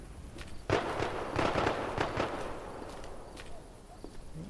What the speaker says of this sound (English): Somebody's having a gunfight out there.